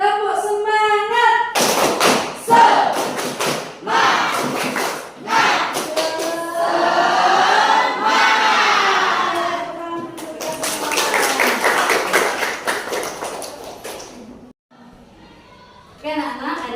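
Children in a classroom doing a rhythmic 'tepuk semangat' clapping chant, rapid claps and taps mixed with young voices chanting along, loud and close, broken by brief pauses.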